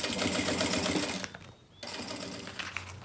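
A sewing machine runs in fast, rapid stitching bursts through a silicone beach bag, close up, with a short pause midway before it starts stitching again.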